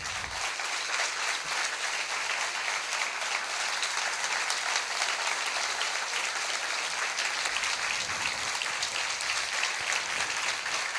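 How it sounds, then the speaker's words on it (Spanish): A lecture audience applauds as an economics speaker stands, a sustained, even round of crowd clapping heard at a moderate distance and steady level for about eleven seconds. "la gente lo aplaude"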